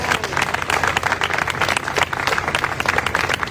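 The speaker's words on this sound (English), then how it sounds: "Please, if you could give her a rousing round of applause." An audience applauds at an independence anniversary event, with dense sustained clapping filling the whole stretch at steady loudness.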